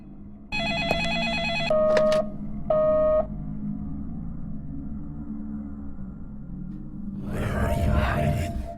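A telephone rings in the video game Deadly Premonition at a lumber mill: two or three bursts of electronic bell tones in quick succession over a low droning ambient bed, followed by a brief noisy rustle.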